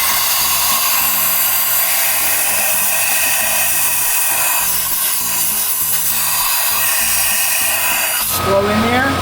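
Compressed air hisses steadily and loudly into the spark plug well of an old, long-neglected Ford Mustang GT, blowing out dirt, with a rhythmic mechanical thumping underneath throughout.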